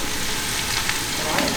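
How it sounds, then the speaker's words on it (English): Butternut squash cubes sauteing in oil for a Thai curry soup, a steady close-up sizzle and crackle over the whole brief moment with no talking. "Got that kind of sauteing."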